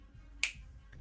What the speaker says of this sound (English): maybe snap your fingers 3 times in a Z formation